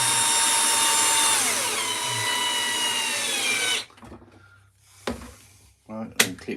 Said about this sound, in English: We'll drill another hole.